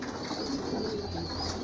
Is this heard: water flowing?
no